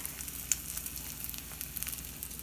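Bacon crumbled into a greasy frying pan and sizzling steadily, a close, continuous crackle with small pops and one sharper snap near the start, and no voices.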